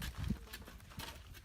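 Horse hooves clop on the dirt trail up Taal Volcano, a few uneven muffled strikes close by in a short burst over faint outdoor background.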